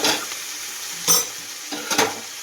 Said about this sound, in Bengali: আমি আলু আর পেঁয়াজ কলিটা ভাজবো